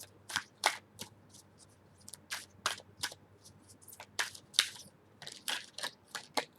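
Tarot cards shuffled by hand during a Libra love reading: crisp, close, papery riffles and snaps in irregular bursts with short quiet gaps, no talking.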